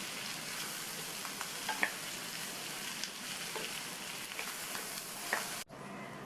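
Capsicum stir-fry (poriyal) with chopped coriander leaves being stirred in a pan, a steady soft sizzle with scattered clicks of the spatula, ending abruptly near the end.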